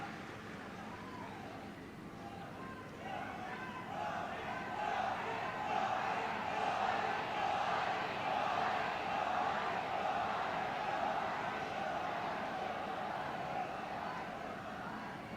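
A large crowd at a Loksabha election rally cheers and claps for the Prime Minister in a sustained, dense roar that swells after a few seconds and holds steady.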